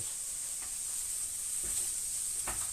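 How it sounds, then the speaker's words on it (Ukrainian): Food frying in a pan with pork fat gives a steady high sizzling hiss throughout, with a few soft stirring knocks, close and moderately loud, with no speech. "Смажемо далі."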